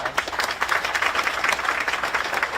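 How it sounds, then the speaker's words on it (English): Applause at a ribbon cutting ceremony for the S-Wing at Moreno Valley High School: a crowd claps steadily and briskly for a few seconds, close and moderately loud. "Could y'all give Ms. Baca another round of applause?"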